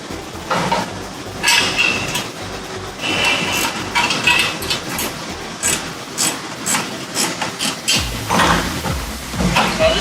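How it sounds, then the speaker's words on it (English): Ratcheting wrench loosening the bolt on a leg of a tile-extending beam assembly, bursts of close ratchet clicking and rubbing in repeated strokes, pausing briefly between turns. "I'm going to take a ratcheting wrench and I'm going to remove one of the legs."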